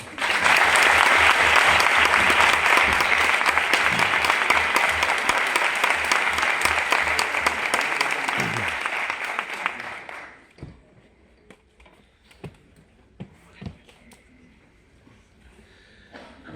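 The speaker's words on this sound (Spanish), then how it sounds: "pido un aplauso para Oriol Pau" A theatre audience at a film premiere applauds director Oriol Pau, loud dense clapping for about ten seconds that then fades to a few scattered claps and murmurs.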